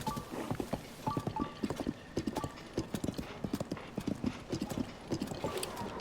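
A horse's hooves clip-clop at a steady trot in Zelda: Tears of the Kingdom near Eldin Canyon, a continuous fairly quiet rhythm of hoofbeats with no speech over it.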